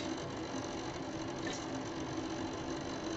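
A lathe turns a chess piece as the collar is cut back, a faint, steady buzzing hum with a light rhythmic rattle, continuous and without voices.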